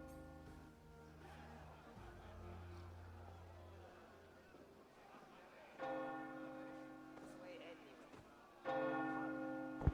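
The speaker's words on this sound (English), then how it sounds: "Keep that bell chime going." A church bell in Assassin's Creed Valhalla rings out in two resonant strikes whose ringing tones hang and slowly fade, heard over a quiet ambient background.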